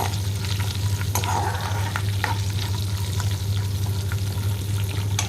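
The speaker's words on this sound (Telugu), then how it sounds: "ఇప్పుడు మనం తీసుకున్న కరివేపాకు వేద్దాం. ఆయిల్లో బాగా ఫ్రై చేసుకోవాలండి." Curry leaves frying in oil for jeera rice give a steady close crackle and sizzle with occasional stirring clicks, over a constant low hum.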